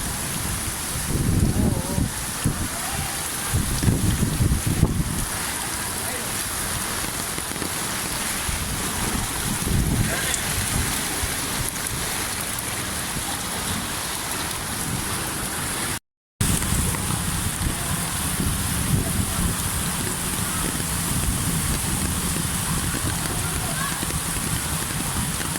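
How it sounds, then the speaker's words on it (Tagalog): Heavy rain pours during a deep street flood in Recto, a dense, steady roar of falling water and splashing that fills the whole scene, with louder surges early on and a brief dropout midway. "Bahang baha na po pero malakas pa rin ang ulan."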